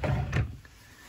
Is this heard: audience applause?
no